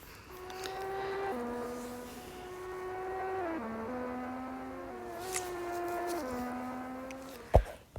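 A Formula 1 car screams through a lap in a racing video game during pre-season testing. It is a high, steady engine whine that steps down and climbs again with gear changes, then ends in a sharp closing thump.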